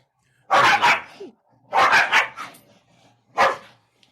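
A dog barks three times in short, loud bursts spaced about a second apart, with quiet gaps between them.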